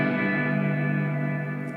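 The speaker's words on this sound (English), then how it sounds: "So here's full blast reverb." An ENYA SONIC guitar played through a heavily cranked reverb effect, a loud, sustained wash of ringing tones that blur together for under two seconds without any voices.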